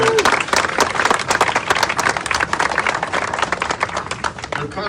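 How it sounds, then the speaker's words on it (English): An audience applauds Supervisor Hahn at a Bruce's Beach event, dense steady clapping filling the whole stretch at close range, with scattered sharper claps standing out. "Let's give her a round of applause."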